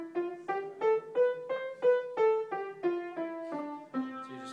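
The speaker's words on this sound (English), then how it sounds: "the major scale sounds like this" Piano notes played one at a time in an even rhythm, climbing a major scale and coming back down, about a dozen clear notes at a soft, steady level with no voices.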